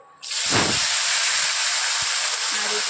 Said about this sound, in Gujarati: હવે તેની અંદર આપણે જે ગુવાર લીધા છે તે નાખી દેવાના છે